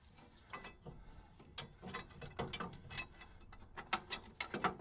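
A hand ratchet works on the leaf spring bolts of a 1998 Ford Ranger 4x4, quiet rapid clicking in uneven bursts with scraping metal and workshop handling noise, close by and faint.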